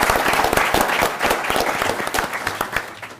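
An audience breaks into a round of applause at a Black History Month panel, dense and lively clapping that holds steady for a few seconds and then begins to thin slightly.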